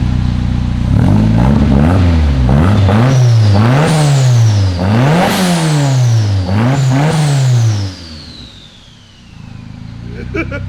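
A rear-wheel-drive Honda Civic with a K-Tune muffler revs hard on a dyno, its engine note climbing and dropping through about five loud, rising pulls before settling back toward idle.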